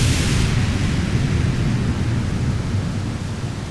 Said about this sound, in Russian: разных видов дождя и грозы,